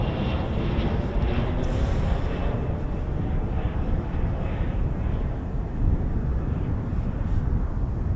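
A multi-engine pilot training jet, an Embraer Phenom 100, flies circuits overhead, producing a continuous broad roar with a steady whooshing rush that holds loud and even for several seconds, softened slightly by wind on the microphone.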